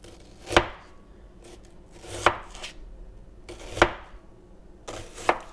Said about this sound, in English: We're gonna cut them into like nice thin strips though